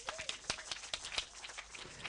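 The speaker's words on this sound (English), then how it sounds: "Also big round of applause for Patricia." A faint, scattered patter of audience applause greets Patricia as she is invited to the stage at an event, irregular claps spread across a couple of seconds.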